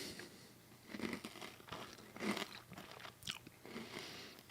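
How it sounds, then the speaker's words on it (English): Biting down on a caramel hard croissant candy with a chocolate filling, giving a few close, crisp crunches and wrapper-like crinkles over several seconds, with no talking. "I guess I'll just bite through it."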